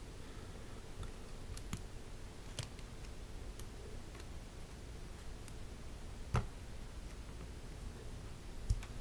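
Quiet mechanical keyboard typing with foam inside, soft, damped key clicks, sparse and irregular, plus an occasional sharper tap against a low background hum.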